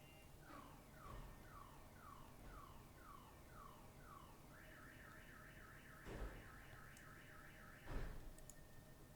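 A car alarm sounds outside on a city street, faint and distant, cycling through rapid rising-falling warbles and then a faster repeated pattern, with a couple of louder thumps mixed in.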